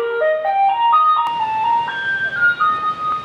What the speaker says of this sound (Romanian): Ia auziți, a venit mașina să ia gunoiul.